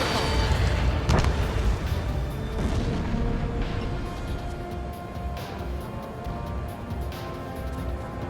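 Long-range missile launches and explosions in the jet combat game Ace Combat 7: Skies Unknown, a sharp boom early on followed by a continuous rumbling roar of engines and blasts, with faint speech in places.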